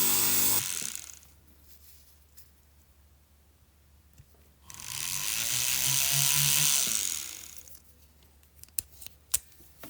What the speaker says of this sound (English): That's why I always drill the hole from small to big.